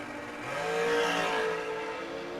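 Door car drag racing cars at a drag strip, engines roaring and swelling loud around the middle before easing off, a broad throaty noise with no talk.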